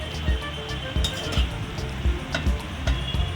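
Bengali vetki fish bone chorchori spooned into a serving bowl, with repeated light clinks of utensil against dish in a steady, close rhythm over a low background hum.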